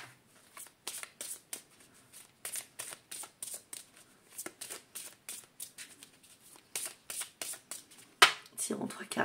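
Belline oracle cards being shuffled by hand, a steady run of soft, quick riffling bursts in an even rhythm, close and fairly quiet, with a sharper slap near the end.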